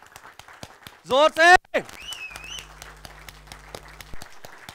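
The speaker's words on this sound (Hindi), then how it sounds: "जोर से यार ताली जरा दमदार होनी चाहिए" A seminar audience claps in sharp, scattered bursts throughout, under a presenter speaking loudly.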